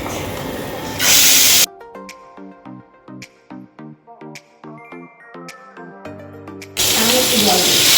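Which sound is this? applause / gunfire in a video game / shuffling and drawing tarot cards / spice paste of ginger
spice paste of ginger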